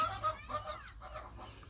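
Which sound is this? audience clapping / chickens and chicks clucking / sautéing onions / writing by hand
chickens and chicks clucking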